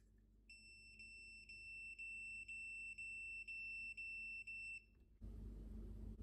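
A voltage tester gives a steady, loud electronic beep with its two probes touching, a continuous tone pulsing in about nine short beats for nearly five seconds, then stopping abruptly before a burst of broadband noise.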